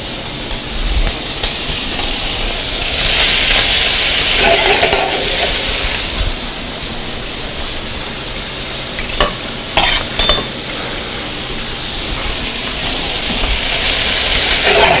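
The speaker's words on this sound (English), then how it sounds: "You want to cook those till the bacon's kind of cooked through somewhat and the mushrooms are cooked." Bacon, shallot and mushrooms fry in a pan over slightly lowered heat, a loud, dense, continuous sizzle that swells and eases, with a few brief clatters partway through. No speech.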